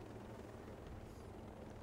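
A constant, dense rumbling roar of a helicopter in the video game Ghost Recon Breakpoint, heard steadily and loudly throughout, as if from on board, with no talking.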